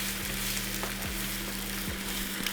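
Steady sizzle of eggs scrambling in an electric skillet in a hotel room, seasoned with garlic and herb, a constant close frying hiss with occasional soft scrapes of a utensil, no talking.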